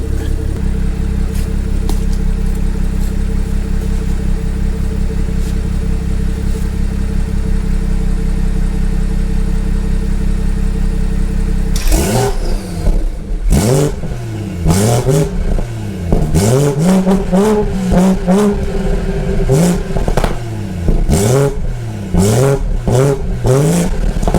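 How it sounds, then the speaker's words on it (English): A BMW 340i's B58 engine with a very loud aftermarket exhaust, set to Sport Plus, idles steadily with a deep drone, then gets a burst of sharp, loud revs rising and falling in quick succession. "I'm just gonna give y'all some revs in Sport Plus"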